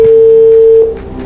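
A telephone call being placed, with a loud, steady single-pitch tone held for under a second before it cuts off and leaves faint background noise.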